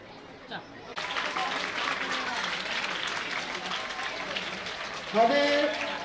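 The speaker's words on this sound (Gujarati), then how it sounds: "આપણે તાળીઓથી વધાવી દઈએ" Sustained applause from a crowd at an honoring ceremony where a guest receives a shawl, starting abruptly after a brief quiet and holding steady with a louder burst near the end, voices mixed in.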